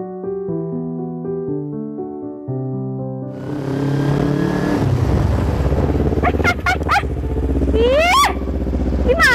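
A motorcycle engine roars in and passes close by, a steady mid-pitched drone rising in loudness over several seconds, with short speech-like bursts over it near the end.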